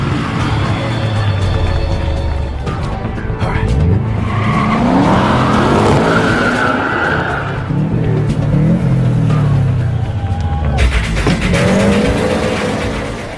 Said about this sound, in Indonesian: Mereka pun langsung gaspol dengan mobil andalan yang masih sama